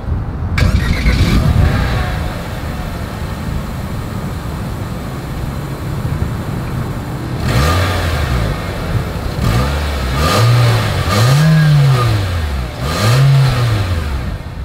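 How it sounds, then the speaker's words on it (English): A 2023 Nissan Kicks engine idles with a low exhaust burble, then revs up sharply several times, each rev rising and falling in pitch. "As always, here is that exhaust clip."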